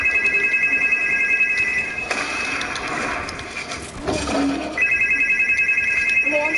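A telephone rings with a repeating electronic tone that breaks off in the middle for a burst of other noise, then resumes.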